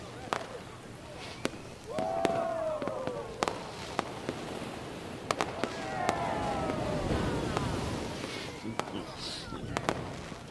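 Fireworks burst over a yacht party, sharp cracks and pops scattered at irregular intervals among crackling fizz, heard beneath people talking.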